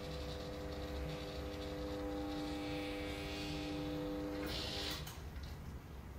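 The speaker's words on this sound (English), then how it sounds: "Motor 1 begins to close." A gate motor on a FAAC E145S control board closes the gate, a faint, steady electric hum with a tonal whine that cuts off near the end, leaving a brief clatter and background noise.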